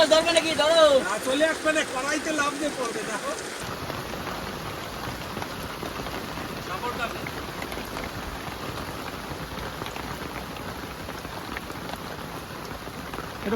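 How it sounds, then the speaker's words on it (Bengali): Steady rain pours down, a dense continuous hiss of drops on surfaces; voices talk briefly at the start before the rain continues alone. "কমলো মনে হচ্ছে না বৃষ্টিটা"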